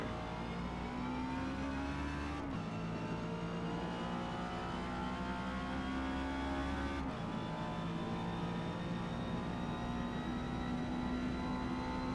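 A Honda S2000 C-class race car in Forza Motorsport at Daytona Speedway howls at high revs down the back straight, its engine note climbing steadily with two sharp shift breaks, loud and continuous.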